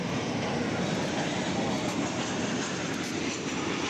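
An incoming airliner arriving from Oklahoma City at DFW Airport gives a loud, steady roar of engine noise that holds evenly through the whole short stretch, with no voices.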